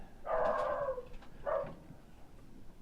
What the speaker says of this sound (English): a creature barking